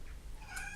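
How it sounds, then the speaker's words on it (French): A house cat meows once, a short rising-and-falling cry heard close and fairly clear in a quiet room. "Donc je reprends après les miaulements de mon chat."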